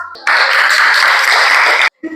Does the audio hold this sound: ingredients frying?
no